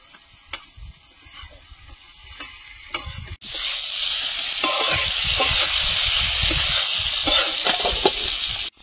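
Tomatoes and slit green chillies hit hot oil and spice paste in a pan, bursting into a loud, steady sizzle after a few earlier clicks and scrapes, with occasional stirring taps over the frying.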